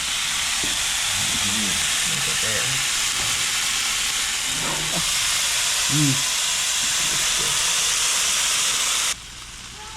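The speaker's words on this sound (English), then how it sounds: "here's the sizzle" Striped bass fillet from a 20-inch striper sizzles loudly in a hot pan, a steady broadband frying hiss running almost the whole way through, while people talk over it before the sizzle drops off near the end.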